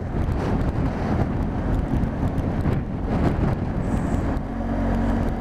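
Steady blustery wind buffeting the microphone over a low road rumble from a moving vehicle, continuous and loud throughout.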